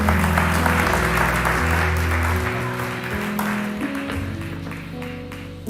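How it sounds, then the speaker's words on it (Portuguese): A church congregation applauds together, dense clapping sustained over a bed of organ or keyboard chords, with a broad steady wash of many hands that stays fairly even throughout. "Sente aplaudindo ao Senhor, porque Ele é bom"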